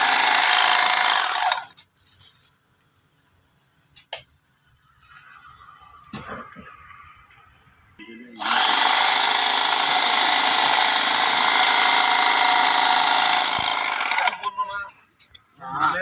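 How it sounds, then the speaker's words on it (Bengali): A machine stitches shut the mouth of a sack of straw husk feed, giving two loud bursts of harsh whirring buzz separated by a quieter stretch with faint clatter and a voice in the background. "একবারেই অত্যাধুনিক প্রযুক্তির মাধ্যমে বস্তার মুখ প্যাকেটিং করা হচ্ছে।"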